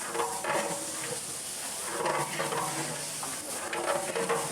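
A large cooking pot for a mosque event is stirred with a long handle, giving a continuous scraping, churning sound with a soft sizzle underneath and no talking.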